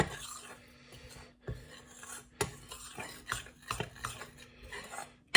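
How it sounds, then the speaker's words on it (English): A spoon stirring ingredients with salt in a bowl, scraping and rasping in short repeated strokes, close and fairly quiet with small gaps between passes. "grab a spoon, and just mix this together"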